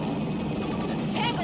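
A military helicopter in Battlefield 2042 gameplay, its rotor and engine droning steadily throughout while players talk over it.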